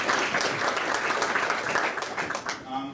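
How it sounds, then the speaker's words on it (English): Sustained applause from a conference audience, a dense steady patter of many hands clapping for about three seconds before thinning out at the end. "So maybe one round of applause."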